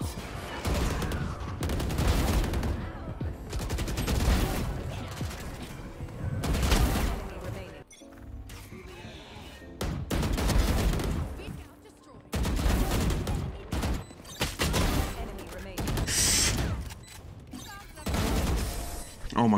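Bursts of gunfire crackle in Valorant console play, loud and rapid in several clusters separated by brief lulls, with a voice talking at times over the shooting.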